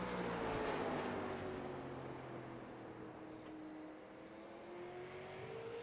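A Super Late Model race car, number 55, laps South Boston in a racing league sim, its engine note droning and sliding in pitch as it passes, loud and continuous with no talk.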